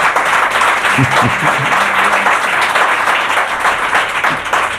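Loud, close applause from a studio audience welcoming a guest on a podcast about Christopher Columbus, dense clapping that continues steadily throughout, with a brief voice sound early on.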